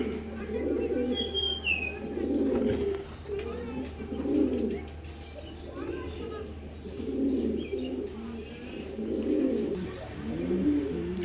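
Racing pigeons coo in soft, repeated throaty phrases close by, with a faint higher chirp early on.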